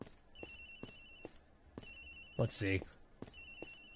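An in-game phone rings repeatedly in Ace Attorney Investigations, a steady electronic ringtone with evenly spaced bursts. A voice speaks briefly partway through.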